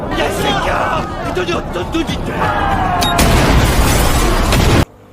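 A man blowing himself up aboard a prisoner transport ship in a crime film, heard as a loud boom and rumbling blast with crowd commotion, continuous and intense before cutting off abruptly.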